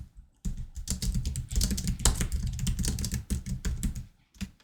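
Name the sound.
typing on a computer keyboard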